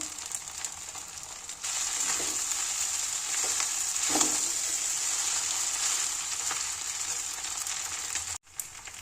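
Egg stirred into chowmein in a hot pan, producing a steady bright sizzle with scraping stir strokes close by, ending in a brief pause before the sizzle resumes.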